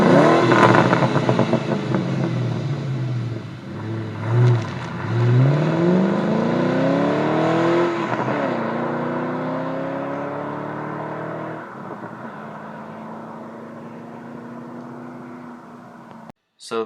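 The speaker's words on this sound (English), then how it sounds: "So that's the exhaust footage I have of a stock Bullitt Mustang and a stock Mustang GT" Exhaust from a stock 2001 Ford Mustang Bullitt and a stock Mustang GT, engines revving up and falling back in repeated rising sweeps, loud and close, then settling to a steadier drone before cutting off.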